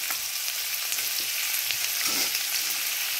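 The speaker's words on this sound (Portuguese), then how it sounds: "agora eu vou acrescentar o bacon" Bacon fries with sun-dried beef and pork crackling in a pan for feijão tropeiro, a continuous bright sizzle with scattered pops, close and unaccompanied by speech.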